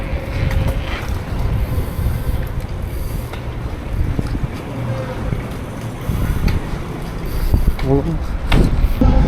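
Steady rumbling engine drone of an Istanbul ferry with gusty wind buffeting the microphone, continuous and close, with faint voices in the background.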